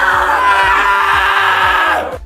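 A crowd of people lets out a loud, sustained, screeching yell in unison, imitating a blood-curdling pterodactyl screech and holding it for about two seconds before it cuts off.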